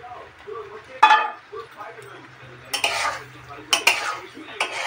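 Paneer cubes go into a pan of butter paneer masala and are stirred, with loud metallic clanks of a spoon on the pan, scraping and light sizzling, and someone speaking softly in between.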